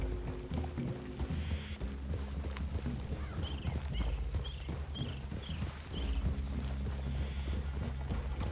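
Horses' hooves clip-clop steadily on the ground in the video game Red Dead Redemption 2, a moderately loud continuous trot with faint bird calls and ambient outdoor sound.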